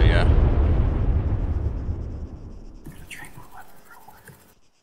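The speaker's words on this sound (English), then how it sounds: "The random explosions. Oh no. Those are mortars." Mortar rounds burst in the military game ArmA 3, opening with a loud booming impact whose rumble slowly fades, followed by faint game sounds and distant voices.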